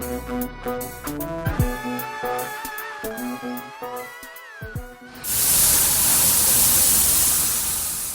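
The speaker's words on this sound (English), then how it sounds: "The sound of a robot there spraying primer coat onto a wall from NTU called PictoBot" The PictoBot robot from NTU sprays primer coat onto a wall, a loud steady hiss that starts abruptly after a stretch of music and continues evenly to the end.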